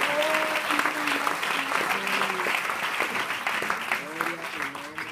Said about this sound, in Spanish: Aplaude al Señor ce matin.